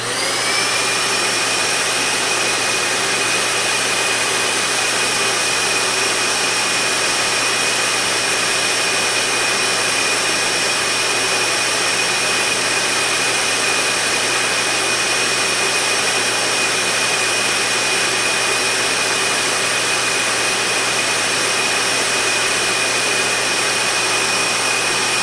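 A Dyson DC65 vacuum cleaner runs continuously and loudly up close, a steady whining roar with a high motor tone that holds level throughout, no voices.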